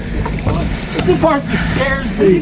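A motorboat on a river, its engine hum running steadily under voices talking close by, with some wind on the microphone.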